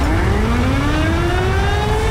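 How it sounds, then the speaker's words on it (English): A tornado siren wails in the LSPDFR video game, a loud rising tone sweeping steadily upward with layered harmonics over a rumbling background, continuous throughout with no talk. "Tornado sirens is going off."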